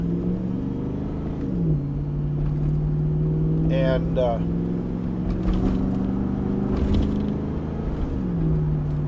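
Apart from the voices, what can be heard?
car Flowmaster catback exhaust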